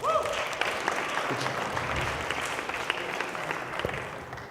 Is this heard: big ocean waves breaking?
no